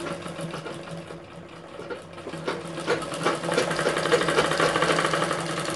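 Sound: sewing machine stitching along blouse edges

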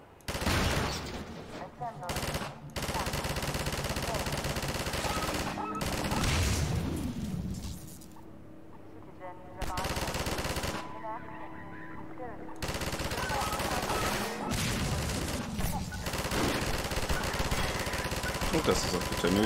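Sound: mounted gun firing in video game

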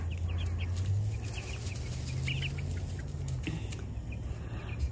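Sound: baby meat chickens clucking

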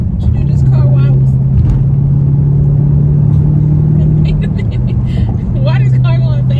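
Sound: car engine driving

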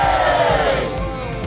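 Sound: crowd roaring and cheering at the Tower of London

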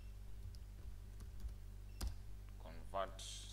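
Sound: typing a command on a computer keyboard

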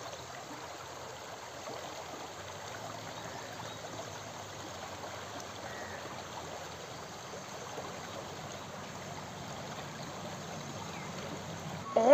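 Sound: fast-flowing stream water in forest after rain

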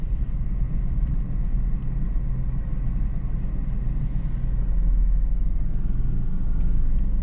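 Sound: car driving past

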